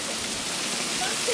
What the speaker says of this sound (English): with the waterfall here